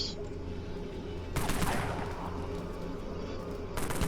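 Rifle gunfire in the video game Dead Frontier: a short burst of rapid shots cuts in sharply over a steady background hum, with another burst starting near the end.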